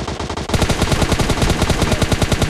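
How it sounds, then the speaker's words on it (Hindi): Rapid 7.62 rifle fire in PUBG Mobile Lite: a loud, fast stream of gunshots starts abruptly and keeps going in a steady automatic rhythm until it ends. "762 से हमारे पर फायर कर रहा था वो"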